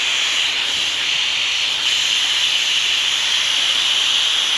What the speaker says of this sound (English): I hear a leak. Just in the gasket.